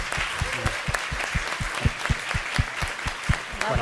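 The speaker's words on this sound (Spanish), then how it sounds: "Un fuerte aplauso para él." An audience claps for a speaker after an astrology and chakras lecture, a moderate room of hands with distinct individual claps standing out in a steady, fairly close rhythm.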